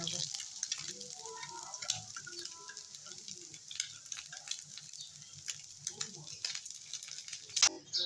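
Fish fries lightly in oil, a soft crackling sizzle with scattered ticks and utensil taps, fairly quiet and close, with a voice speaking over it.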